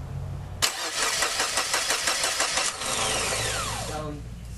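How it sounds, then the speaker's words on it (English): A 1993 Geo Metro with a camshaft position sensor problem cranks with a rapid rhythmic churning for about two seconds, then catches and runs, settling into an uneven idle. "Okay, turn it over again."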